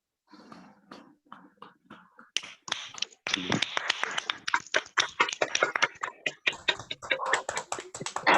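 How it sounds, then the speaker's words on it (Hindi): Meeting participants clap for themselves from their own homes, starting with a few sparse, soft claps and building into louder, overlapping clapping from several people. "तो हम ही चाहेंगे सब लोग एक बार अपने लिए एक बार जरूर तालियां बजाएंगे।"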